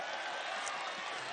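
At a packed Anies campaign rally in Bandung, a huge crowd claps and cheers in a steady, dense roar that holds evenly throughout.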